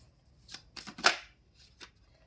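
A tarot card is pulled from the deck. Several soft, close slides and flicks of card stock come in quick succession, with one crisp peak in the middle and a final light flick.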